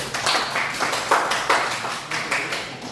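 A classroom of students clapping for a classmate, a few seconds of scattered, uneven claps with no talking over them.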